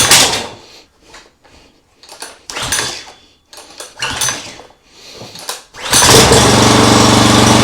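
A lawn mower engine rigged as an outboard motor, set to full throttle and choke, sputters through several uneven cranking bursts, then catches and runs loud and steady at close range.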